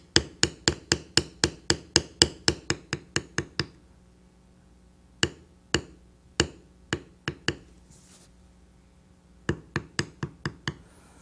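A leather beveling tool is struck by a hammer in crisp, rapid taps: a fast run of about fifteen blows, a few spaced strikes, then another quick cluster, all close and fairly quiet.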